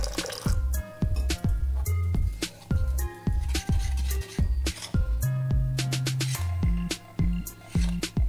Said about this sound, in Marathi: थोडंसं पाणी घालून पातळ करून घ्यायचं आहे